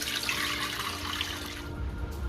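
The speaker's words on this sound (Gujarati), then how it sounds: "હવે એના પર આપણે ઠંડુ પાણી એડ કરી દઈએ" Cold water poured over boiled, drained soybeans in a kitchen, a steady close splashing rush that runs throughout without pause.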